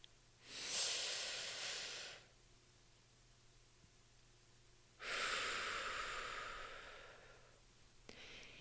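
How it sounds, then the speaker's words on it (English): A person does slow box breathing: one long, close, airy inhale, a few seconds of silence while the breath is held, then a long, soft exhale, with another breath starting at the end. "you breathe in to a count of 4, you hold it for 4, and you breathe out for 4"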